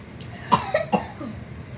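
Three quick, sharp coughs in a row at close range, one after eating spicy Doritos chips, with a quiet room behind.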